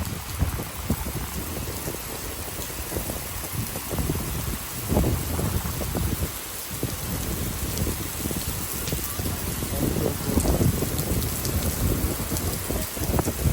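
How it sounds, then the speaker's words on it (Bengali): Heavy rain pours in Jurong East, Singapore, a dense, loud, unbroken roar of drops on surfaces with gusts of wind swelling through it. "জুরং ইস্ট এরিয়াতে এখন প্রচন্ড বৃষ্টি হইতেছে"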